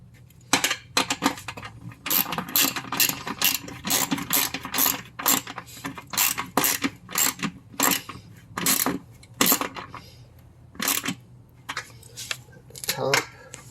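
Clicking ratchet tightening bolts on a Vego metal raised garden bed, sharp rapid bursts of ratcheting clicks in uneven runs, close by, with a faint voice now and then.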